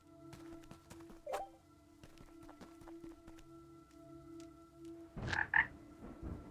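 Croaking of a frog in the farming adventure game Ikonei Island: faint, sparse calls over quiet background tones, with one short croak early and a louder cluster of croaks near the end.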